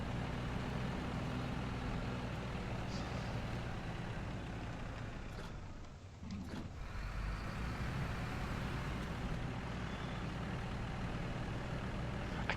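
An International Paystar truck in the SnowRunner video game drives off-road with a steady, heavy engine rumble that runs continuously and loud, dipping briefly mid-way before resuming, with no talk over it.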